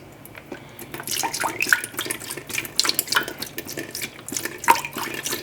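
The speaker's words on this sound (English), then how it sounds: "put a little bit of beef broth in here" Beef broth poured into a cooking pot, a splashing, gurgling stream of liquid with uneven bursts, close and fairly clear, no voices.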